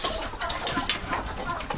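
A turkey calling outdoors on a winter farmyard, a close run of gobbling, clucking notes filling the whole short stretch without any talk.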